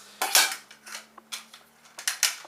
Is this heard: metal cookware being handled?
yes